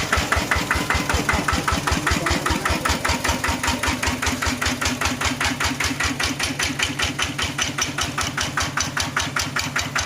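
Close, steady chugging of a walking tractor's small diesel engine running at a constant idle, its regular pulses continuing unbroken throughout.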